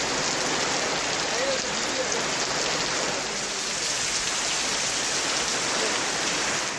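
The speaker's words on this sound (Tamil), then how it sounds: "திருவள்ளூர் மாவட்டத்தின் பல்வேறு பகுதிகளில் பிற்பகலில் திடீரென்று கருமேகங்கள் சூழ்ந்து பலத்த காற்றோடு மழை பெய்தது" Heavy rain lashes down with strong wind in the Tiruvallur district, a dense, continuous roaring hiss that stays loud and even throughout.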